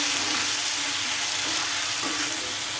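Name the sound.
prawns frying in a pan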